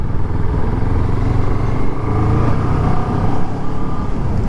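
A 2014 Kawasaki ER6-N motorcycle out on a test ride gives a steady, loud engine drone close by, running continuously with no pauses or voices.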